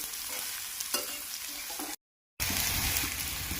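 Onions softening in oil for a prawn chilli curry, with a steady broadband sizzle and occasional stirring clinks, cut by a brief moment of silence before the frying noise returns louder.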